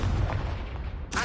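A Confringo fire spell blast in Hogwarts Legacy: a heavy low boom that rumbles and fades over about a second, followed by a sharp bright burst at the end.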